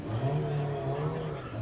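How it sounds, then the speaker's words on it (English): A monster truck with only a forward gear revs steadily as it pulls out of the burnout pit at the UCC 2021 event: a continuous, loud, low engine drone with no breaks. "monster truck pulling out of the pit."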